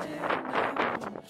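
Wind gusting at the Acropolis in Athens, a steady breathy rush buffeting close against the microphone for a brief moment, with no talking.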